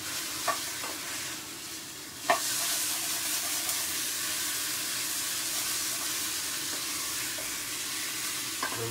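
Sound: steak frying with honey and mustard in a pan

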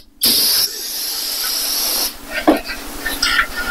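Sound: brake cleaner being sprayed from a can

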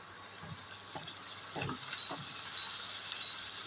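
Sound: pasta ingredients frying in a pan

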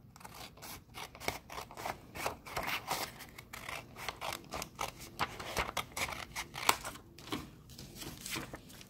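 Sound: scissors cutting paper

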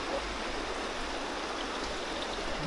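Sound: small mountain stream flowing in the Carpathians

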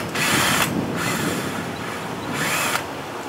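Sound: tightening with a power drill

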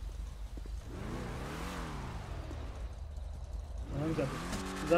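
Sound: car engine revving in a racing video game

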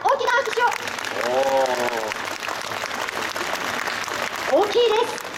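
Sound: applause from audience

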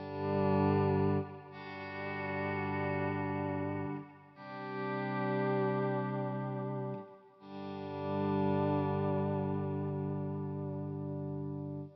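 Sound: guitar swell effects through J. Rockett Boing reverb pedal

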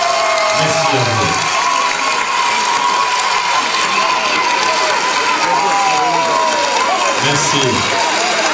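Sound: wedding guests cheering and applauding the couple

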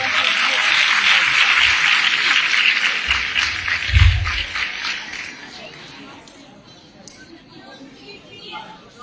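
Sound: audience applauding at a gathering

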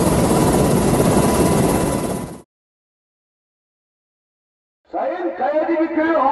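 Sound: firefighting helicopter Nefes with HELTAK water system

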